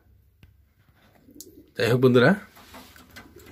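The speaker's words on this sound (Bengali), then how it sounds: "এখানে আছে আপনার আরো এক জোড়া ব্লু বার কবুতর" Blue bar pigeons coo softly in a loft, a low murmur that runs beneath a man's brief spoken remark.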